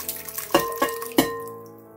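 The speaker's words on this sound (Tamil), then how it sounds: "இப்போ நான் இந்த பழம் சோத்து இந்த பானையில் இருந்து இந்த தண்ணியை வந்து தனியாக எடுக்கிறேன்" Water from a pot of fermented rice being poured off, heard as a few close splashy dribbles and drips with clinks against the vessel, then fading quiet.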